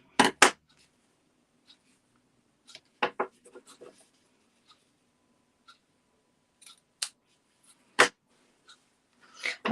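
Ribbon scissors snipping through craft ribbon while making gift tags, giving several sharp, close, crisp cuts spaced irregularly with quiet gaps between them.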